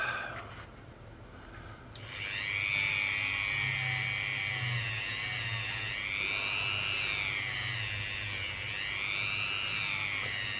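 A Dremel rotary tool with a felt polishing pad buffs a coin ring made from a German 1 Mark coin, giving a loud, steady high-pitched whine that rises and dips in pitch as pressure changes. No one speaks.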